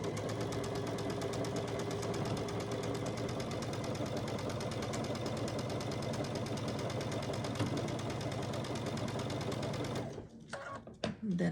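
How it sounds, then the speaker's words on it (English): A sewing machine runs steadily, chain-piecing quilt pieces along a quarter-inch seam, a close, continuous mechanical whir that stops near the end. "I'll stitch it down this side at 1/4 inch"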